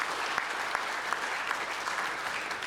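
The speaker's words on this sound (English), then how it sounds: "So what about a round of applause for Kerry?" An awards-night audience claps warmly in a steady, even round of applause, dense and continuous from start to finish with faint crowd murmur underneath.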